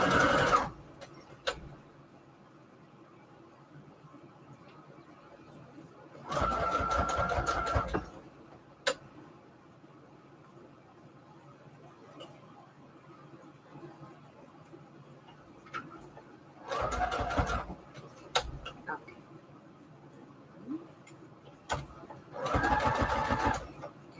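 Sewing machine stitching fabric ruffles in short loud whirring bursts of a few seconds each, separated by quiet pauses with scattered clicks and faint background noise.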